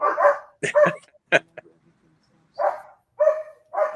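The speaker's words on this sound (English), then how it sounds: "Neighbors' German Shepherds are barking at something." Neighbours' German Shepherds bark in short bursts of two or three yaps with pauses between, clear but at some distance, with a few faint whimpers.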